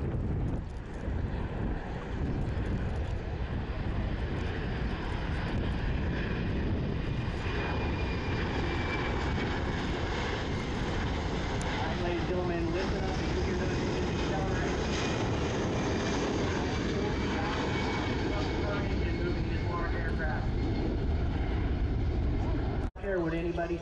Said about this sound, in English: watch this C-17 as it comes in for its landing